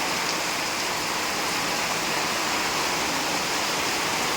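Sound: heavy rain on a tin roof

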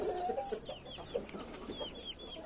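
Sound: rooster clucking

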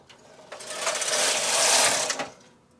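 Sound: knitting machine carriage knitting mock moss stitch

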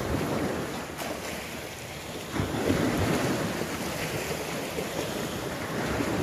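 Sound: ocean waves on the shore

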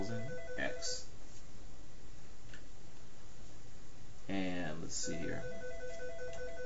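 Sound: telephone ringing

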